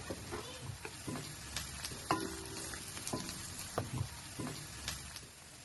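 Onions fry with curry leaves and turmeric in a hot pan, a quiet continuous sizzle broken by light scraping and stirring clatters.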